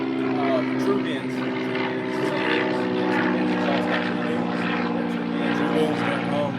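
A 1995 Ford Thunderbird with a 4.6 V8 and a cat-back muffler delete kit with X-pipe idles with a loud, steady, droning exhaust rumble that holds level throughout while a person talks over it.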